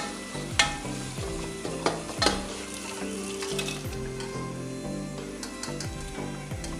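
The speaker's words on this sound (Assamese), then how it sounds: "তেল লগাই দিছোঁ, ব্ৰইলাৰ মাংসটো এতিয়া লগাই দিছোঁ" Broiler chicken and onions frying in oil in a pot, a continuous close sizzle with repeated scraping stirs and a few sharp utensil knocks.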